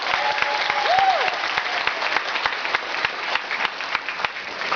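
An audience at a Nutrilite training session in Malaysia gives a sustained, even round of applause, with a crowd's many hands clapping continuously throughout and a brief tonal sweep early on.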